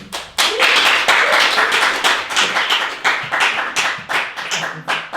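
An audience claps together in sustained, fairly close applause, individual hand claps audible in a busy rhythm, with a voice faintly under it.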